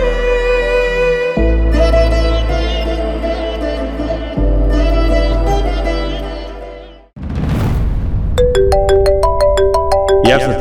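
A phone ringtone sounds in a domestic scene from a Kannada TV serial: a loud melodic electronic tune repeats its phrase several times, then breaks off briefly before a different, brighter beeping melody plays.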